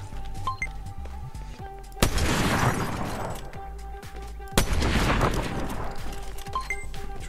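Gunfire in the video game Fortnite: two loud, sharp shots a couple of seconds apart, each trailing off in a long echoing tail over a low game background.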